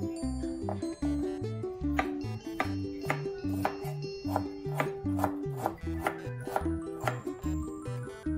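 A knife chops chili and ginger on a board in a series of steady, evenly spaced taps under continuous background music.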